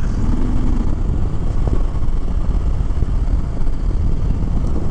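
2021 Harley-Davidson Sport Glide cruising at low RPM, a steady loud rumbling engine drone mixed with heavy wind buffeting, continuous and close throughout.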